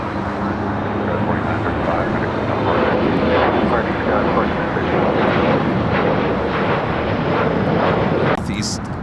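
Jet airliner roaring down runway 25 right at LAX on takeoff, a loud, steady broadband rumble and whine sustained throughout, with radio chatter and voices faintly underneath.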